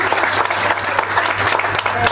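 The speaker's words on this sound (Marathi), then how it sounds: "नुसत्या टाळ्या वाजून त्यांचं स्वागत न करता बेंबीपासून टाळ्या वाजून त्यांचं स्वागत करावं अशी मी इच्छा करतो" An audience at a ceremony honouring sanitation workers in Pune claps steadily, a dense burst of applause filling the short stretch without pause.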